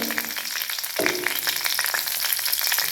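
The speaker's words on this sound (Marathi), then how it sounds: "लसूण बघा लालसर, त्यात हिरवी मिरची टाकायची" Garlic and green chillies frying in hot oil in a pan, a steady bright sizzle that surges louder as the chillies drop in about a second in, then crackles on evenly with no talking.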